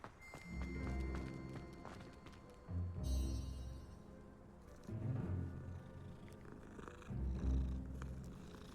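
A long cat in Hogwarts Legacy purrs in a continuous low rumble that swells in four rhythmic waves, close and soft, with faint ambient game sounds behind it and no talking.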